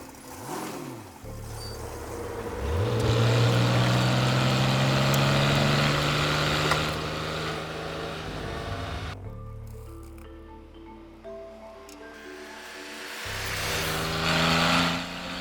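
A 1972 Porsche fitted with a 2.4 liter S engine runs steadily nearby, its tone rising in a rev midway and then settling back before the note cuts off, with no talk over it.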